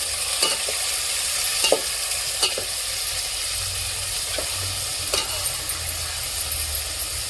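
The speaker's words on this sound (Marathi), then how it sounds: "आता त्याच्यामध्ये ही काढलेलं मटण त्यात परता घेते" Mutton stir-fried in a pan with turmeric for a village-style biryani, a steady sizzle broken by scraping stirs and light clinks of a spoon against the pan, close and continuous with no talk.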